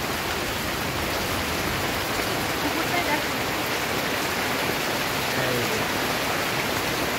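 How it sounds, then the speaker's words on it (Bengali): Steady rain from the edge of Cyclone Remal hisses continuously, a dense even wash of noise with no breaks. "বৃষ্টি হচ্ছে দেখো।"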